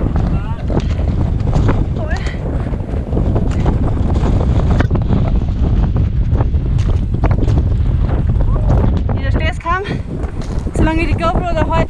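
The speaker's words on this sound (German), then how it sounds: "und jetzt geht's wieder Wind" Wind blowing across the microphone on a mountain bike tour in the Julian Alps near Sella Nevea, a loud steady buffeting rush that continues throughout while people talk.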